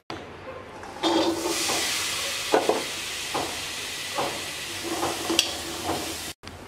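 Small potatoes being tipped into a hot wok, bursting into a steady sizzle and hiss with a few stirring scrapes and knocks, close by and moderately loud throughout.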